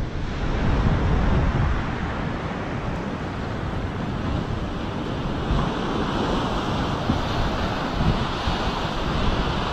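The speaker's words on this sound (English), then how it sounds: "Over there is the beach" Ocean waves washing onto Ponta Negra beach in Natal, Brazil, a continuous broad roar of surf mixed with gusting wind buffeting the microphone, steady and loud throughout with no voices.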